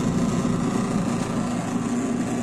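Repaired American Home washing machine motor running after its motor and timer were fixed, a steady humming drone with a low buzz, constant and fairly loud with no talk over it.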